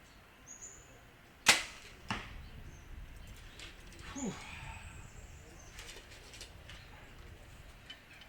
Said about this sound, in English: we're just going to be aware of these arrows as we're knocking and shooting them